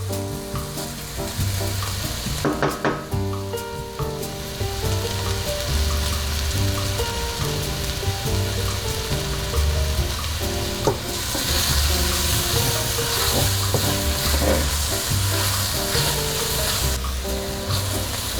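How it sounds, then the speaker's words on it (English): Garlic sizzles in a pan as the base for a mushroom alfredo sauce, a loud, dense, continuous crackle close by with a few clinks and stirring sounds. "My garlic has been cooking"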